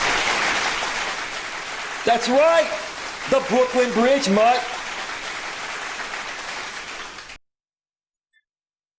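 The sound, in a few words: applause sound effect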